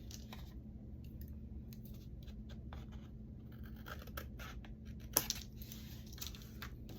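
Scissors trimming excess journal paper to size, a series of faint, quiet snips and light paper scrapes with one slightly sharper click near the end, close up, with no talk.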